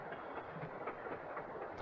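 A moving train in a 1959 television drama rumbles steadily throughout, with a continuous broadband roar and faint rhythmic clatter from the wheels on the rails.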